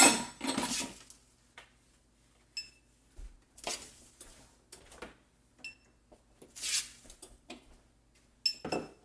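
A spoon clinking and scraping against a dish while working a cooled key lime pie crust, a few sharp bright clinks in scattered bursts with quiet gaps between.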